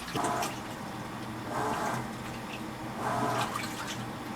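An Insignia top load washing machine filling its tub with water, a steady rushing inflow with three louder surges in a slow, regular rhythm, heard close and alone.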